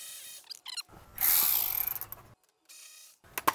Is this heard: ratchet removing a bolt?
yes